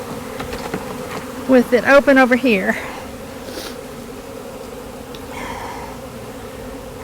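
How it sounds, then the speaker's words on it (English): A swarm of honey bees buzzes steadily in the background of an outdoor hive setup, a low constant hum under a man's brief speech, with a faint shift later on. "Now the bees will be tempted to come back here"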